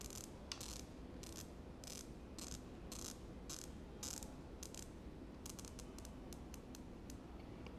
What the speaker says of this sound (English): I'll just rotate the bezel here.